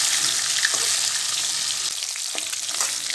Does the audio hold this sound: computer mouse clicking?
no